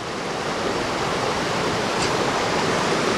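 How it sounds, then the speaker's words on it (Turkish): A waterfall in Tekmezar Canyon, a dense, steady roar of rushing water that stays loud and unbroken throughout, with nothing else standing out. "Şurada bir şelale olması lazım."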